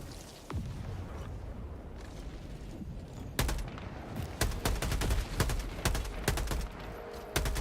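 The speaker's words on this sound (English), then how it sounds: "Then I'm gonna throw down this Gatling sentry here." Rapid bursts of gatling sentry fire in the video game Helldivers crack out in dense, loud volleys after a few quiet seconds of low battle rumble, sharp repeated shots clustering in the second half.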